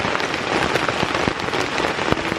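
Rain pours steadily at a riverside fishing camp in Indonesia, a dense close hiss with scattered louder drop hits on nearby surfaces, no voices.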